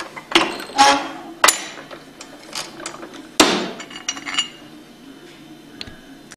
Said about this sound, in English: And press your bearing out.